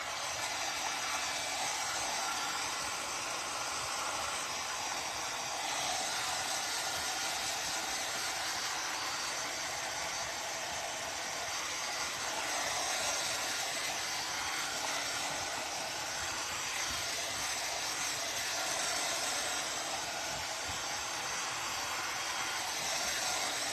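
A dryer blows steadily over a decoupaged turntable, giving a constant airy hiss and whir at moderate level for the whole stretch with no talk.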